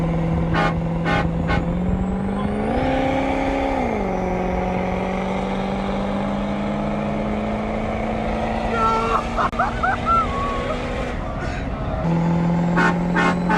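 A huge 800 hp 6.0 Powerstroke diesel truck with a big cam idles and revs nearby, a steady loud rumbling drone that rises briefly, with clicks and a short high tone over it, running continuously without talk.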